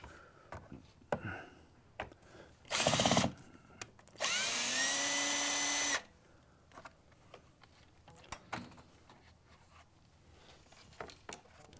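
A power drill backs out screws from a window glide near a dropped upper sash, two distinct whining bursts, one short and one a couple of seconds long, between quieter stretches of faint clicks and handling.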